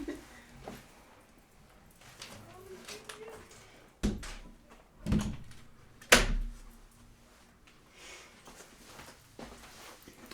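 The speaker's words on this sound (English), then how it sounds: "Let me just shut the door." A door is shut indoors. Soft movement and footsteps come first, then several dull knocks and thuds, the loudest a sharp bang near the end, with faint voices in the background.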